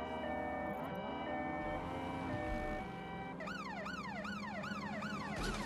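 An emergency siren in the video game Watch Dogs: Legion wails continuously over steady engine hum, then switches to a faster up-and-down yelp pattern, loud and close.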